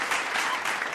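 A crowd cheering and applauding, played as a sound effect on a podcast show: a dense, steady wash of clapping and cheers lasting about a second.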